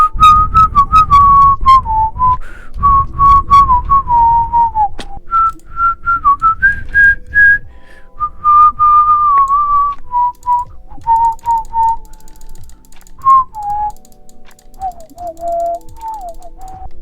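A person whistles a tune loudly and close, clear pitched phrases rising and falling over steady mechanical clicking and rattling from a Minecraft Skyblock game, with short pauses between the phrases.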